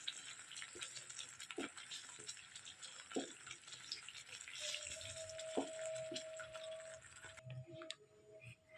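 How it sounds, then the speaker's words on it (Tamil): Water splashes and trickles steadily into a pot of egg masala curry, with a few soft knocks and a faint tonal hum near the end. "தண்ணி ஊற்றிட்டேன்"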